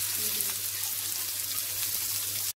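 Meatballs fry in a pan with a steady, close sizzle that carries evenly over a low background hum until it cuts off abruptly at the end.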